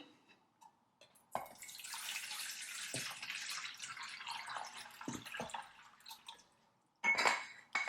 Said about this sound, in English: First we will add 1 liter of water.